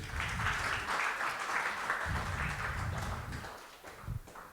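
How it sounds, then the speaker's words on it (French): Church congregation applauding at a Sunday worship service, a steady wash of many hands clapping at moderate distance that tapers off toward the end. "Je vous prie de l'applaudir s'il vous plaît."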